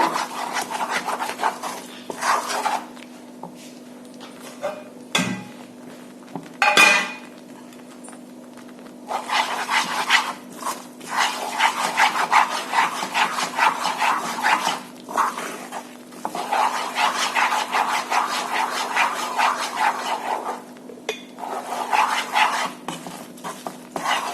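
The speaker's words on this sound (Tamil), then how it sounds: "இப்போ ஸ்டவ் ஆன் பண்ணி கிளறிட்டு இருக்கேன்" A spoon scrapes and stirs Mysore burfi mixture in a pan on a stove in repeated rasping strokes, broken by brief pauses and a couple of sharper knocks, with a faint steady hum underneath.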